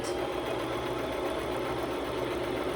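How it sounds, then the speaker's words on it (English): A sewing machine stitching straight across fabric for a log cabin pillow, a steady, even mechanical whir with fast rapid ticking, continuous and close throughout with no talk. "I'm just gonna sew straight"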